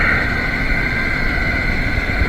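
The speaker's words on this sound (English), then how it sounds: "exhaust motor turn on." Exhaust motor of a commercial rooftop HVAC heating unit running, a loud steady whirring hum with a constant airy hiss, close and unbroken throughout.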